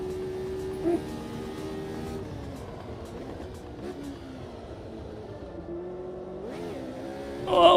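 Race car engine in Automobilista 2 sim racing, a sustained droning note that rises and falls with gear changes and swells into a louder rev at the end.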